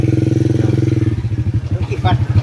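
A motorcycle engine runs close by with a steady, throbbing idle that thins out partway through as a person starts talking over its lingering putter.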